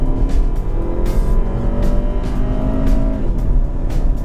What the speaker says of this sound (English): Here we go, it's pulling it up, just letting it go. There goes the turbo.